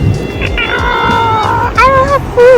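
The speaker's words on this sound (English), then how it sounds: "And we have cats everywhere." A house cat meows repeatedly in a home in Dubai, the rising cries clear and close over a background of room noise and people talking.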